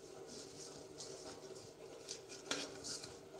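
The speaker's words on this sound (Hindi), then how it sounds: "आप इसको खुले बाउल में करिएगा शिफ्ट, जितनी भी चीज़ें होंगी बर्तन खुला लेंगे तो इजी से जो मिक्सिंग वाला काम है हमारा वो इजी" Russian salad ingredients being mixed in an open bowl, with soft clinks and scrapes of a utensil against the dish, fairly faint and continuous with one sharper knock near the end.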